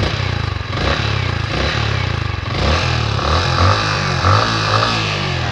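A 2023 Yamaha Sniper 155R motorcycle with about 1,700 km on the odometer revs up close by: a steady idle rises into repeated throttle blips, loud and alone.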